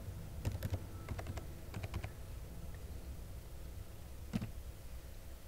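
Keys tapped on a computer keyboard while entering a password, a few short bursts of quiet clicks followed by a pause and one last keystroke, faint and close.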